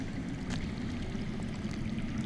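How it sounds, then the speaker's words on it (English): Underground running water in a Game of Thrones video game, a steady muffled rushing and gurgling flow that holds evenly throughout, low and distant with no voices over it. "That's water. I hear water. From underground."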